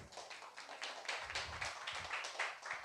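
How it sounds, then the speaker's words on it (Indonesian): Audience clapping at a literature talk, a steady patter of many hands applauding at moderate volume throughout. "Aplaus."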